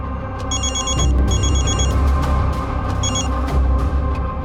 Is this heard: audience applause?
no